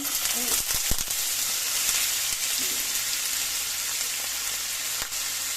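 Carrots sizzling in hot cooking oil in a pan, a loud, dense, continuous frying hiss with a few sharp clinks of stirring, close up.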